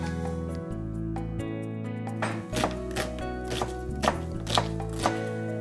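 Onions chopped on a board for a potato and zucchini tortilla, a run of sharp knife knocks at an uneven pace, close and clear over a steady background hum.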